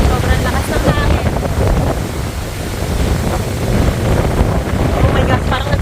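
Strong gusts buffet the microphone on a windy mountaintop, a loud, steady roar of low rumble and broadband noise that runs the whole time while voices speak over it.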